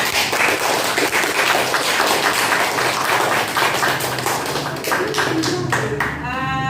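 A classroom of students clapping their hands together, a lively burst of applause that thins toward the end into a few scattered claps, with faint voices underneath.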